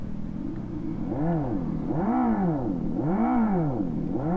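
A Revolt RV 400 electric motorcycle's motor pitch sweeps up and down in repeated smooth waves as it speeds up and slows while riding, humming steadily with no voices.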